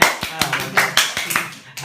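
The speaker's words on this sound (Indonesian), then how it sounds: "Tepuk tangan dulu kameramen sini." A handful of hands clap in a loose, uneven rhythm, about ten distinct claps spread across the moment, close and fairly loud with a brief gap near the end.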